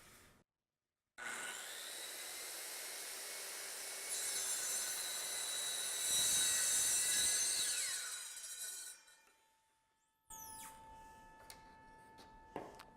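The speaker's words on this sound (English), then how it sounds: "Clamp it into position with the guide rail and make the cut." A wood block cut on an EZ-ONE woodworking center with a guide-rail clamp: a steady, loud saw rasp through the wood lasting several seconds, then winding down, followed by quieter clicks and handling noises.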